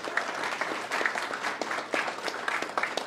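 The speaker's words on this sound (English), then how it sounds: "We can give a round of applause to Ed." Audience applause for Ed Kahn, a former Holland and Hart partner, at a talk on integration and equity in Denver public schools: a dense, even burst of many hands clapping.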